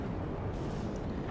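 A Pokémon's Earthquake attack during a battle: a continuous, dense low rumble that stays steady and loud throughout the short moment, with no voices.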